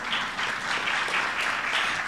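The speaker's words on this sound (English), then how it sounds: "Round of applause." Delegates at a general assembly applaud a passed plenary vote, a full, even wash of clapping across the hall lasting a couple of seconds.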